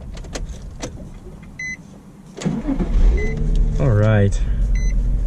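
A 2003 Nissan 350Z Track Edition cranks and catches, its engine bursting into a loud idle after a few electronic chimes and a clicking starter, with a person speaking briefly beforehand.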